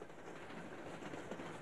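A train on a 1973 railway enthusiasts' tour in Tasmania runs along the track with a steady rumble and soft rhythmic wheel clatter, faint and somewhat distant, with no voices.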